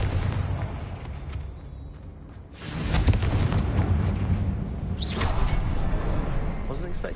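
A Confringo explosive spell blast in the video game Hogwarts Legacy, heard as a rushing whoosh that builds into a muffled boom over a steady game background rumble.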